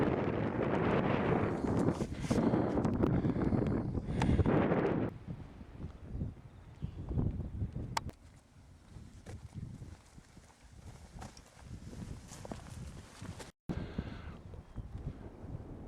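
Low, blustery rumble of cold wind buffeting the microphone on the Quantock Hills, heaviest early on and easing into a steadier gusty roar with occasional small knocks.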